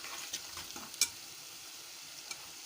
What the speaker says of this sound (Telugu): సాల్ట్, కారం, మూడు వేసి బాగా కలపాలి.